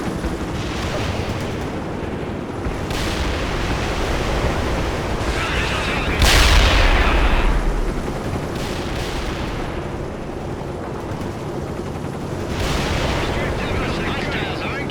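Battle in World in Conflict with sustained gunfire and heavy explosions, a dense roar of shooting broken by several loud booming blasts, the biggest one midway, with radio-style voices talking underneath.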